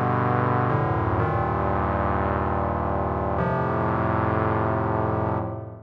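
Two Steinberg Neon VST synth patches layered together, a free 1996 plugin: a thick, loud, distorted sustained synth drone with a few pitch changes, fading out at the end, with no talking.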